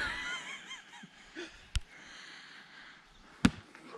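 A person imitates a Bigfoot mating call with a few hoarse, wavering hoots, then two sharp loud cracks punctuate the quiet.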